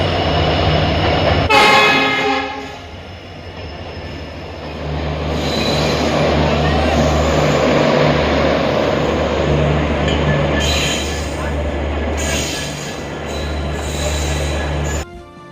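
The Agartala–Anand Vihar Tejas Express passenger train runs on the Lumding–Badarpur hill line near New Haflong. A loud horn blast opens, followed by a steady heavy rumble of wheels and cars passing close by.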